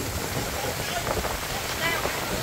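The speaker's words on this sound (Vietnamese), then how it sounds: "Lần đầu tiên mà mày còn bị mưa ở trên sông Hàm luôn." Rain beats on a boat travelling on the Hàm Luông river in the Mekong Delta, making steady hissing patter over rushing water and wind, loud and close throughout.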